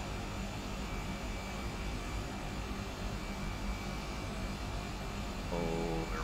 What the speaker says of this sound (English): Plane, whoa.